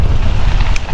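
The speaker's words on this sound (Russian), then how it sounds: "Да, о том, какой здесь ветер." Strong wind buffets the microphone during a long mountain-bike tour ridden into a headwind, a loud, continuous roaring rush with low rumble throughout and no voices.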